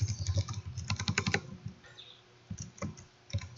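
Quick bursts of typing on a computer keyboard while a test program is written, close and fairly quiet, with dense clattering keystrokes, a brief lull, then a few more scattered taps.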